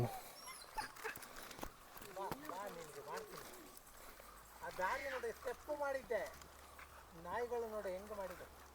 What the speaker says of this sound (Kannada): ನಾಯಿಗಳು ಮಾಡಿದ.